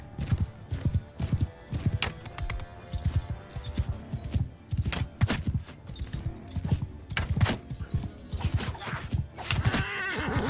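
Horse hooves clop rapidly with occasional whinnies as mounted horse archers gallop across a battlefield in Mount and Blade Bannerlord, steady and fairly close.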